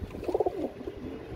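Oversized pigeons coo in a few soft, low, throaty pulses close by, with a brief burst of rounded calls before the sound fades into quiet murmuring.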